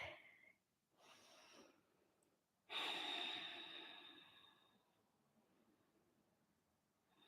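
Deep, audible breaths during a Pilates workout, a long exhale swelling loudly then fading, preceded by softer breaths, close to the microphone with no talking.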